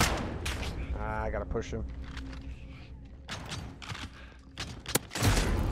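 Gunfire bursts from Call of Duty: Modern Warfare in a 1v1 match, crackling in dense volleys with a sharp loud shot near the end, while a player talks over the action.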